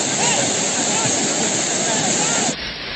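The overflowing Caluma river sends floodwater rushing past in a loud, continuous broadband roar that eases slightly near the end.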